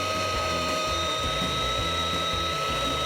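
A fruit ice cream maker runs on frozen banana with a loud, continuous motorized whir and grinding hum, steady and close, with slight wavering in pitch and no talking.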